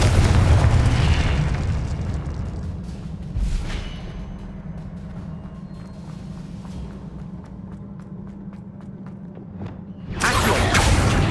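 Confringo spell blast in the video game Hogwarts Legacy, a heavy booming explosion that decays into a rumbling tail and footsteps, then another loud burst near the end.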